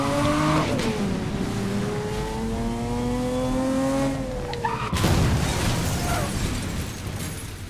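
A Lexus LFA engine in the racing game Need for Speed Most Wanted 2012, revving hard through rising gear pulls, then a sharp crash or impact burst followed by a rough, noisy rumble.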